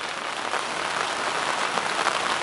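Steady rain falls outdoors, a dense, even hiss of drops hitting surfaces close by, with no voices over it.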